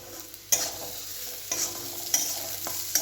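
Maggi noodles cook in a home kitchen, a soft background sizzle punctuated by a few sharp stirring clacks of a utensil against the pan, close and unhurried, no talking.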